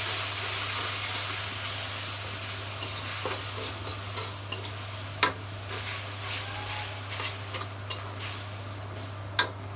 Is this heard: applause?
no